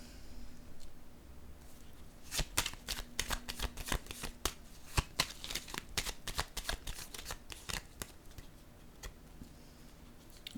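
Playing cards shuffled and dealt onto a table at close range, a quiet series of sharp snapping flicks and soft slaps in an irregular rhythm, with no talking.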